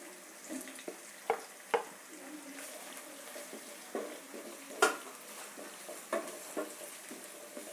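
Ginger garlic paste frying with meat and browned onion in a pan, a soft continuous sizzle broken by sharp metal clinks and scrapes of a spoon against the pan.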